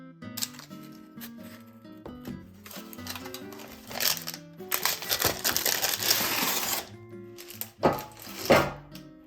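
A knife saws into a freshly baked, still-warm crusty sandwich loaf, giving repeated crackling crunches of breaking crust. Music plays underneath throughout.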